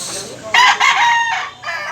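Bulik rooster offered for sale crows once, loud and close, a brief strained call over faint background noise.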